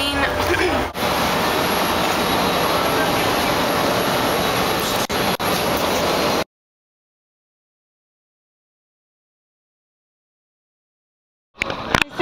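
Jet airliner engines roar steadily during boarding for a six-hour flight to Kauai. A loud, dense, continuous rush runs for several seconds with voices over it, then cuts off abruptly before a brief return.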